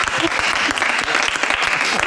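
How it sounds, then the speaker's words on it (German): Festival crowd applauding at a rooftop-tent festival in Hameln, dense steady clapping that fills the whole moment, loud and close with no voices standing out. "Applaus!"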